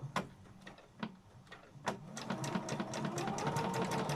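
A sewing machine stitching a fabric pouch gives off irregular clonking knocks at first, then settles into a fast, steady run of mechanical clacks at close range, with no talk over it.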